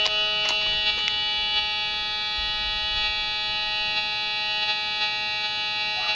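A Whites MX Sport metal detector in relic mode holds a steady buzzing threshold hum, with a couple of brief sharper blips near the start, and no one speaking.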